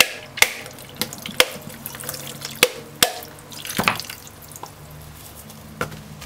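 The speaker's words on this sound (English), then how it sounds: "Break coconut." A medium-sized coconut being broken open in a kitchen, with sharp knocking cracks at irregular intervals followed by dripping and trickling coconut water, fairly close.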